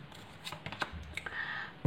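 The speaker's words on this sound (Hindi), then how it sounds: "यहाँ पर कुछ और कार्ड निकाल लेती हूँ।" Tarot cards being drawn and shuffled by hand, a run of soft, close papery flicks and riffles, fairly quiet, ending in a louder handling thump.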